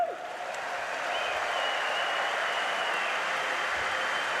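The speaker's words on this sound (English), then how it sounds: "Please give a big round of applause." A large audience applauds a DJ at the Invictus Games Düsseldorf 2023 opening ceremony, producing a steady, dense wash of clapping and crowd noise with a faint tonal hum running through it.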